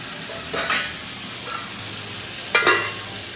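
Pork pieces sizzle in an oily pan under a low, steady hiss, with two short bursts of scraping and clatter as they are stirred about.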